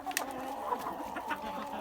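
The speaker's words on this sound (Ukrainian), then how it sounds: "Ця мішана курочка від сірого легорна" A hen, a mixed-breed cross from a grey Leghorn, gives a few soft, short clucks close by, against faint background noise.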